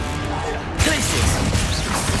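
In Hogwarts Legacy, the Glacius ice spell lands as a sharp crashing impact under nonstop combat noise and clashing spell effects.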